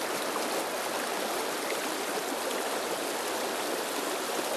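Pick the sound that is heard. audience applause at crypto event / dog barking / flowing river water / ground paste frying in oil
flowing river water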